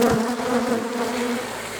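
A honeybee at a forest apiary buzzes close by with a steady, droning hum that wavers slightly in pitch and lasts the whole moment, with no talking.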